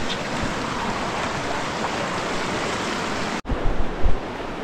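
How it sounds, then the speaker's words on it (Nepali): The flooded Daram river surges past in a loud, continuous roar of rushing water, close by and steady, with a brief dropout near the end followed by a few louder splashing bursts. "यतातिर खोला छ, एकदमै पुरै डरम खोला ढल्किसकेको छ, यसलाई पार्न एकदमै गाह्रो छ"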